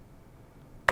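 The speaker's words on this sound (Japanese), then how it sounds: "エンターキーで実行をします。" A single sharp keypress of the Enter key on a computer keyboard near the end, loud and close, after quiet room tone, while a Petit Computer 4 program is run.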